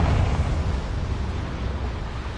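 Explosive blast from the Confringo fire spell in Hogwarts Legacy on PS5, a loud, dense rumbling burst with deep low-end weight that rolls on steadily for a couple of seconds with no voices over it.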